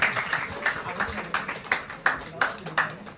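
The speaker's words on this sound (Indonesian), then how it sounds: "tepuk tangan, beri kemuliaan untuk Tuhan" Rhythmic unison clapping from a church congregation at a Sunday service, about eight regular claps, moderately faint with some voices beneath.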